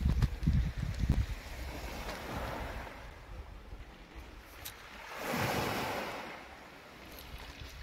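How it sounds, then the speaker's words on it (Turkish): Sea waves washing ashore at Barbaros cove in Mersin on a clear morning, a soft surging wash rising and falling in two broad swells with wind buffeting the microphone and a few low thumps early on, no talk. "Denizi göstermek istiyorum."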